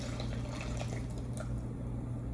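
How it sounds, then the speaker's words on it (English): Brown butter with toasted nutty bits pours from a pan into a bowl, a soft, steady liquid trickle with faint wet splashes, close and quiet, with no talking. "we're gonna pour this butter into a bowl"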